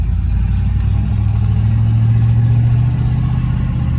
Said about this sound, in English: It's got Flowmaster pipes on it, so it's a little bit loud.